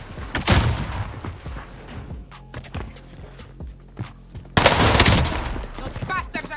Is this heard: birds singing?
no